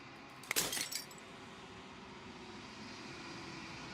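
Glass shatters once in the video game Slay the Princess, a short bright burst of breaking and tinkling fragments near the start, then fading into a quiet, steady ambient hum that fills the rest.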